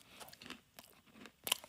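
Someone bites and chews a crunchy cookie made with mealworms, brown beetle larvae, producing faint, close, irregular crunching bursts spread over a couple of seconds, with one sharper crackle near the end and no talk.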